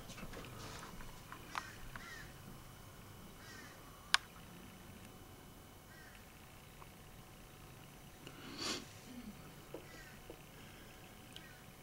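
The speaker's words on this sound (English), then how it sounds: "I love that field crow." A crow out in a field gives a few scattered caws against faint outdoor ambience, with one sharper call standing out midway and another burst later on.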